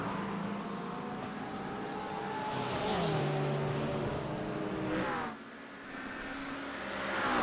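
Race cars, including an Acura, racing at VIR in the iRacing sim, with engine tones rising and falling through braking and acceleration, a steady loud drone with a brief dip near the middle.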